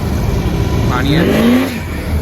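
A Pontiac G8 drives past on a St. Ignace street during a car show weekend; its engine note swells briefly and fades, close by and fairly loud, with voices around it.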